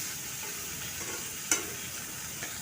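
Eggplant slices fry in hot oil with a steady, even sizzle, close and fairly loud, broken by one sharp clink of a utensil midway.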